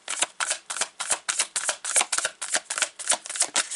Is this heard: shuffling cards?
yes